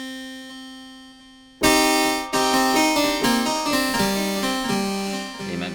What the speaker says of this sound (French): c'est un son d'orgue